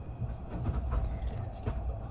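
A Tobu limited express train (Liberty 500 series) departing Shin-Koshigaya station rumbles and rolls along at steady moderate loudness, with low mechanical drone and occasional clatter, as if pulling out and gathering speed.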